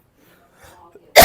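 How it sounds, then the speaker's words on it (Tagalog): A single sharp cough bursts out at close range right at the end, after a moment of near silence with faint soft breathy sounds. "Mo karat akong ubo."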